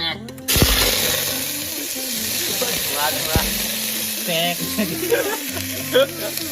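Pork sizzling as it is added to hot oil for a pork and elephant apple dish, a steady bright hiss with stirring clatter and scraping, while a voice speaks over the cooking.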